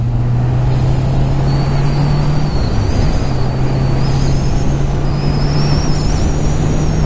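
A Honda CB 650R motorcycle on a test ride, its engine holding a loud, steady drone over continuous road and wind roar that stays close and constant throughout.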